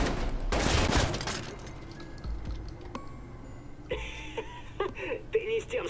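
Shotgun fire in the video game Watch Dogs: a burst of heavy, close blasts at the start gives way to clicks, ticking and other game effects, with a voice heard at times.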